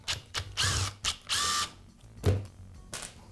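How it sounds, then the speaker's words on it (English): A Makita nibbler's cord strain relief is pried and worked loose during repair, giving a series of short, close clicks, ratcheting scrapes and plastic creaks in irregular bursts, with no talk. "now I'll remove the strain relief"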